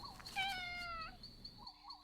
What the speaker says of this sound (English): He turns to the sound and sees a gray cat sitting plainly, just watching him.